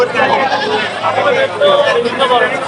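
Goats bleat repeatedly amid a busy Eid livestock market crowd, with a murmur of many voices throughout.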